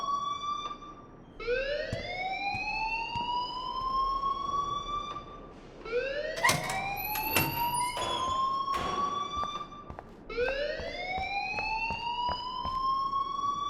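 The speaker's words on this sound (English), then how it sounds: "please turn off that alarm since that's your job" Fire alarm wailing in the video game Life is Strange, a loud rising siren sweep repeating about every four seconds, with sharp clanking hits in between.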